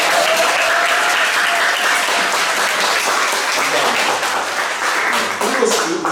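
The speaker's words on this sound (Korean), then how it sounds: "우리 찬양 인도자와 우리 가스펠 워십에서 박수 한번 합시다" A church congregation at a Sunday worship service applauds steadily and fairly loudly throughout, a dense wash of many hands clapping together.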